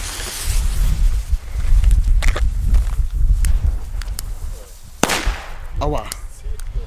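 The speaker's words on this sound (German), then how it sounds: "wir testen mal jetzt noch die Bella Bomber Böller von Blackbox" Small Blackboxx Bella Bomba firecrackers go off outdoors as a few sharp, separate cracks, one especially distinct, over strong wind rumble on the microphone, with a voice briefly audible near the end.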